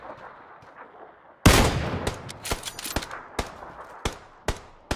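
Gunfire in the video game PUBG: a loud burst of shots cracks out suddenly, followed by a steady series of sharp single reports spaced around a second apart.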